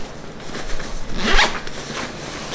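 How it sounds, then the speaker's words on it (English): Zipper on a Black Diamond Pursuit 30 backpack made of thin material being drawn open in one continuous pull, close and clear, with a louder rasp near the middle and no talking. "So this zips open"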